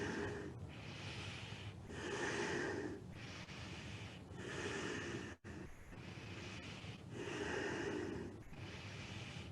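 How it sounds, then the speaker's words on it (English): Slow, deep breaths drawn and released through the nose during a Kundalini yoga exercise, long swelling inhales and exhales repeating in a steady rhythm, close and soft, with one brief break partway. "Long, deep breathing through the nose."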